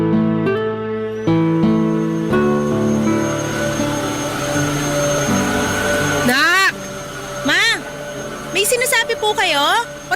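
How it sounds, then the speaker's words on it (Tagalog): A household vacuum cleaner runs close by in a small family eatery, a loud steady droning whine that continues throughout while people talk over it. "medyo maingay kasi tong vacuum eh"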